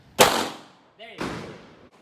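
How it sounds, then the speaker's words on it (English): A 9 mm FMJ round fired at a ballistic helmet plate: one sharp, loud shot followed by a decaying tail, then a second duller impact-like burst about a second later. "shooting it with a 9 millimeter FMJ"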